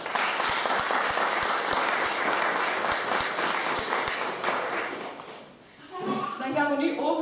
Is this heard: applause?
yes